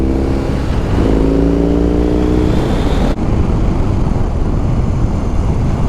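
A BMW R18 cruiser motorcycle engine during a clutchless gear change, a loud steady rumble with the revs climbing and then dipping abruptly at the shift before droning on.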